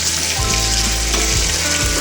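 Mustard seeds and crushed garlic crackle in hot oil as a tempering for zunka, making a loud, steady, close-up sizzle with no talking.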